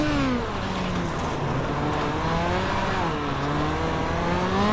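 Midget race car in the iRacing game at the Chili Bowl, its engine droning steadily at light throttle with small pitch rises and dips, loud and close for several seconds with no talk.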